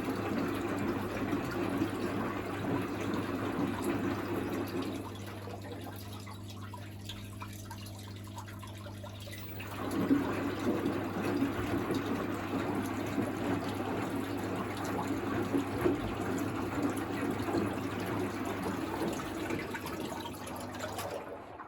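A Miele WS5073 sluice washing machine pumping water out, with a steady pump hum and gurgling, splashing water that drops off briefly around the middle, then resumes for a long stretch.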